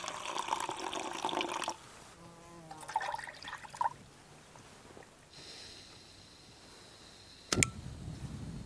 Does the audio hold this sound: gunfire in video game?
no